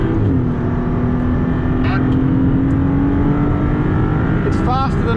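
A Maserati MC20 lapping Phillip Island race track, its engine a loud, steady drone heard from inside the cabin with a sustained tone and occasional shift chirps, voices talking over it.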